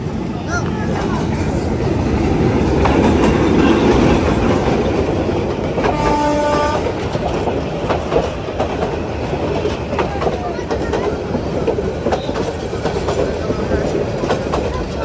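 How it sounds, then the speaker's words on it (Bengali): A local train passes close by with a loud, continuous rumble and rhythmic clickety-clack of wheels on rails that stays strong throughout, with a brief horn-like tone in the middle. "এই ট্রেনও চলে আসছে"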